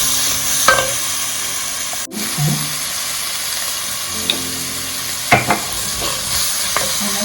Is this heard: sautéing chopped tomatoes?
yes